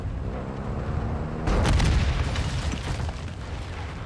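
A vehicle blows up in the Call of Duty Modern Warfare II DMZ mode, a loud sudden boom bursting over a rumbling game soundscape and trailing off into crackling debris.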